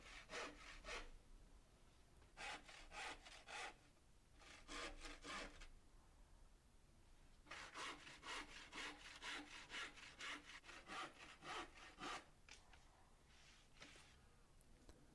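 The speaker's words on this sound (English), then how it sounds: "to cut out the base, I used a handsaw and just followed the lines that I'd made" A handsaw cuts through a salvaged scrap-wood base for a wheeled workshop storage bin, making bursts of steady rhythmic rasping strokes close up, broken by short pauses between runs.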